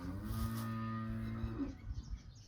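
A cow lets out a long, low moo, close and clear, fading into quiet at the end.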